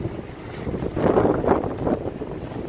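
Wind gusts across a Blackpool beach, blowing loose sand along the shore; a steady broadband rush that swells in the middle and then eases, with no one talking.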